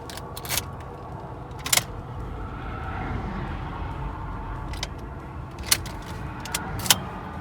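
Low, continuous road rumble inside an old 2008 car on the move, with a few faint clicks and rattles scattered over the steady drone, no voices.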